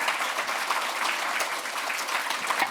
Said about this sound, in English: can I get you to give our panellists a round of applause?